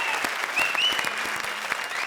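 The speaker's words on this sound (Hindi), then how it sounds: "जोरदार तालियां" Studio audience applause fills a comedy show stage, dense steady clapping at close range for about two seconds, with faint whistles and cheers rising through it.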